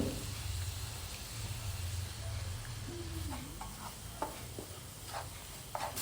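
A coconut ladoo mixture with milk powder is stirred in a pan over a soft, continuous hiss, with a few quiet scrapes and taps of the spoon toward the end and no talking.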